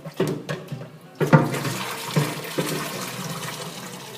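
Water rushes back into the freshwater tank of a Namco high-pressure tile and grout cleaning machine after its filter is removed, a steady close splashing flow with a few sharper knocks and surges.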